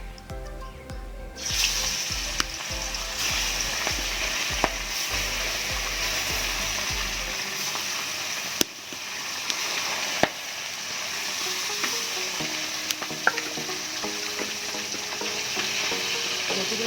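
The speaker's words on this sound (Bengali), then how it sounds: "এবার একে একে তেল গরম হয়ে গেছে, মাছগুলো একে একে তেলে দিয়ে দেবো।" Tere fish rubbed with salt and turmeric fries in hot oil, a steady loud sizzle running the whole time with a low hum early on, pieces going in one after another.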